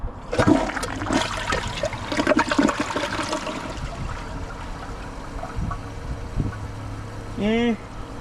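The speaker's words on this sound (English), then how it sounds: "Let's get it flush." A 2025 Kohler Highline Arc toilet flushes close by, a loud gurgling rush of water with sharp splashes early on, settling into a softer draining wash, then a brief squeaky tone near the end.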